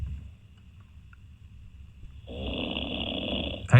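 A man snores on a radio phone-in line, with soft rhythmic breathing first, then a loud, rough, congested snore from about midway that sounds like a nasal blockage, heard alone over the telephone.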